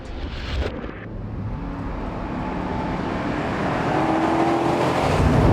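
A Holden HSV VL SS Group A Walkinshaw touring car sounds as a steady engine roar that builds gradually and gets louder, with no one speaking over it.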